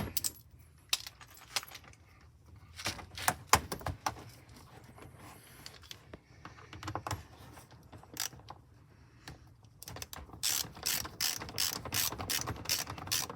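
A ratchet wrench clicks in repeated bursts while tightening a part during a headlight bulb replacement on a 2014 GMC Acadia, with quick pawl clicks, short pauses between runs and a faster, denser stretch near the end, close and fairly quiet.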